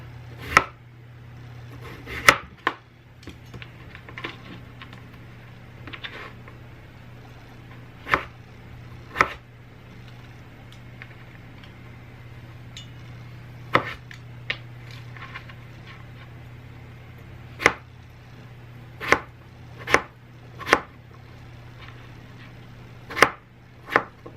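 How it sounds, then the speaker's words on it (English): A knife chops peeled, washed potatoes on a cutting board at home. The sharp, close thuds come irregularly at first and then in a steadier run, over a constant low hum. "I'm just going to go ahead and cut up the potatoes"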